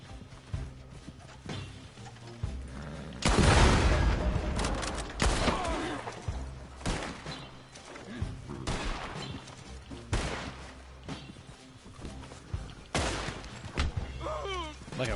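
Gunfire rings out in the Western video game Red Dead Online, with several sharp, loud shots spaced irregularly across the stretch amid game ambience and some horse hoof clatter.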